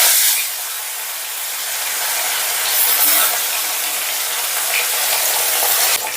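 Fish pieces fry in hot oil in a kadai over a medium gas flame, giving a steady, close, broadband sizzle that holds evenly throughout with no one talking.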